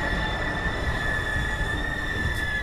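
The Venkatadri Express stands at platform 3 of Chittoor railway station, where a steady mechanical rumble runs under two high, sustained tonal whines from the train, with no voices.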